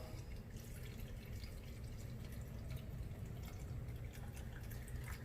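Spring water is poured into a jar over cucumbers, a faint, steady trickling and splashing stream running the whole time with no talk.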